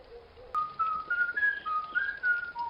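A clear whistled melody of several sliding, held notes, fairly close and soft, with no talking.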